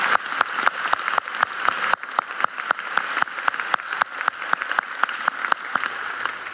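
Sustained applause from a crowd, many hands clapping steadily with sharp individual claps standing out, no voices over it.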